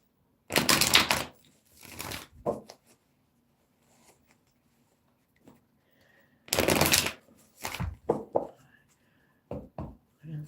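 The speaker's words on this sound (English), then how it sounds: "Let me shuffle" Cards are shuffled in quick riffling bursts, with pauses between and a few softer clicks and taps, close by and fairly quiet.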